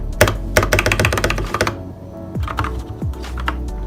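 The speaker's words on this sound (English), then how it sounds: "Now I'm using the cherry red version. This is how the cherry red sounds." Fast, close clicking and clacking of typing on a Svive Triton gaming keyboard with Cherry Red switches, dense bursts of keystrokes followed by a few slower, heavier thunks.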